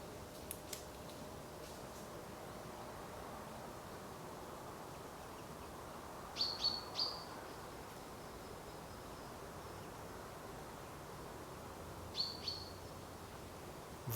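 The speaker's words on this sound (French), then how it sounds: "Le chant des oiseaux que vous entendez ici" Birds calling in a quiet natural setting, a few brief bright chirps scattered over a soft, steady ambient background, fairly distant and faint, with no voices.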